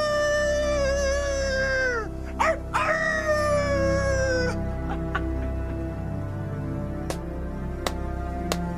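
In a TV period drama scene, an actor's voice imitates a dog with drawn-out, wavering howls and yelps for several seconds, followed by quieter pauses with a few sharp clicks.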